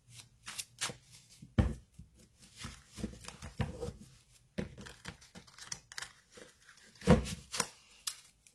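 Tarot and oracle cards being shuffled by hand, repeated riffling and slapping bursts with a few sharper snaps, close up and unaccompanied by speech.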